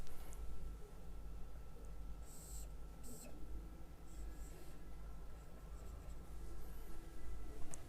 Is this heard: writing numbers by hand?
yes